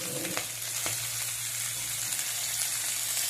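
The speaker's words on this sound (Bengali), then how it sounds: "দিয়ে দিচ্ছি হলুদ" Hot oil sizzles steadily in a pan as turmeric is added for a Bangladeshi-style titkumari flower fry, with a couple of soft clicks near the start and no talk.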